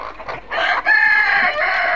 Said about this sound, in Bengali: এখানে আমাদের মুরগি আছে 250, মুরগ আছে 40